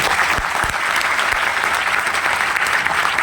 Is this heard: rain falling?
no